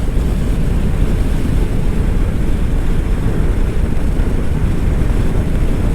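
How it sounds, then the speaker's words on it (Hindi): Loud, steady wind roars and buffets the microphone during a motorbike ride on the road from Panipat to Haridwar, a dense unbroken rush with no other sounds rising above it. "क्या ठंडी ठंडी हवा चल रही है।"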